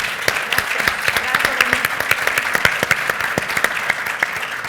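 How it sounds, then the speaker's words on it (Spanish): Audience applause at a talk on capitalism, a dense steady clatter of many hands clapping nearby, sharp individual claps standing out throughout, with no speech. "Un aplauso."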